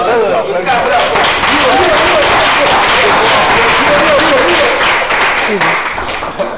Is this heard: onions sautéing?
no